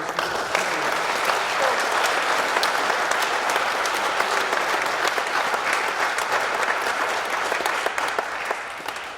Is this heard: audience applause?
yes